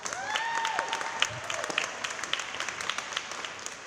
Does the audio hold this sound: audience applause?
yes